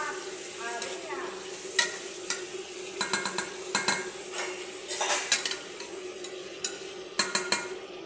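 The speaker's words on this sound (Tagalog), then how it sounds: "Piprito ko naman yan." Chicken wings frying in a pan, a steady sizzle running throughout with scattered clinks and scrapes of a utensil stirring and turning the pieces, fairly close.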